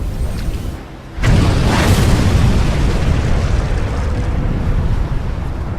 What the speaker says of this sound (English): Before slipping beneath the surface, her powder magazine detonates.